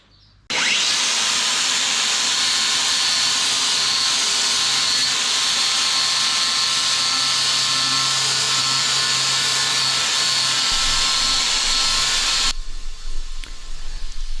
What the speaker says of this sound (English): The flapper disc did a good job of removing the wine residue and giving the timber a suitable surface